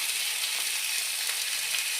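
Onion frying in a pan after an egg, a dense steady sizzle heard close up for a couple of seconds, even in loudness with no talking over it.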